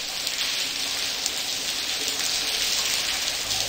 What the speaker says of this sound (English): Hey, let's get out of this rain.